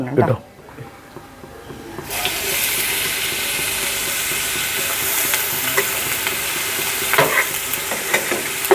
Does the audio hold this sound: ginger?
yes